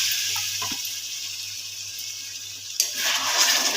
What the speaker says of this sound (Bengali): এর মধ্যে একটু গরম জল দিয়ে দেবো।